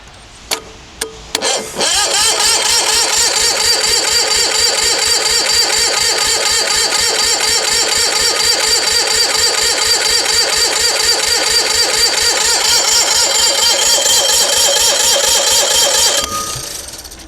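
Onan MDJE diesel engine, rusty and cold, cranks briefly with a few sharp knocks, then catches and runs at a loud, steady rhythmic clatter for about fourteen seconds before shutting down.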